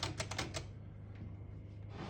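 A 1938 Corona Standard vintage portable typewriter gives a quick burst of four or five sharp key strikes up close, then falls mostly quiet apart from one faint click.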